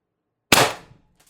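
A single sharp shot from a Umarex TR50 air rifle tethered to a 48 cubic inch tank with an adjustable regulator cracks close and loud, then decays quickly into a short tail with faint ticks.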